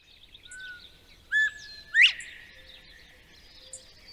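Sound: northern bobwhite song

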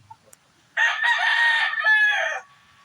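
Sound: fighting rooster crowing

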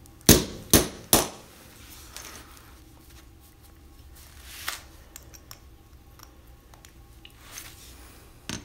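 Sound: 3-pound hammer striking a punch against a bike lock

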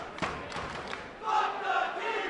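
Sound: wrestling crowd reacting as Awesome Kong enters the ring

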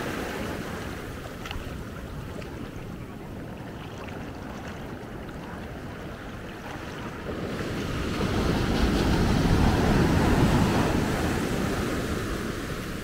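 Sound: ocean waves crashing

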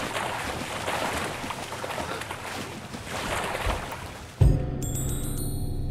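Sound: character falling into water in the video game Sleeping Dogs

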